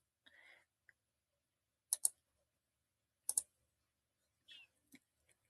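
Several soft, quick computer mouse clicks, in pairs and singles, close and quiet against near silence, with faint breathy sounds between them.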